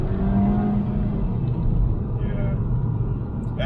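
A Mk5 Golf GTI with a turbo and DSG gearbox accelerating in second gear, a low engine rumble heard from inside the car beneath steady talk.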